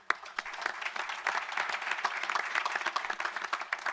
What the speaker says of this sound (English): I'd like to ask for a round of applause for everybody who helps make CHOW possible